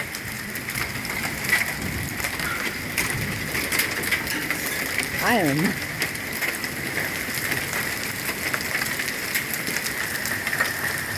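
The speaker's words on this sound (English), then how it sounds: "Nothing major, it's just pea-size hail." Pea-size hail pelting down during a hailstorm in Spring Hill, Florida, a dense steady patter of small hard impacts on surfaces nearby, with a brief voice heard partway through.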